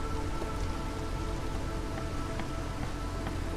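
Heavy storm rain in the video game RimWorld pours in a constant dense patter, with scattered sharper droplet taps over a low rumble, steady and unbroken with no talking.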